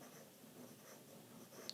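A pen writes quickly on Delta matte journal paper, giving a faint, close scratching texture in short strokes with a slight tap near the end, heard alone without any voices.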